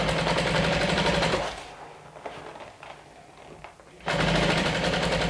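A sewing machine runs steadily while stitching a clear vinyl beach bag, then quiets for a few seconds of faint handling before starting up again at full speed.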